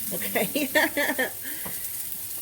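Pork chops browning in a pan for onion pork chops give off a steady high sizzle that runs the whole time, with a person briefly speaking over it near the start.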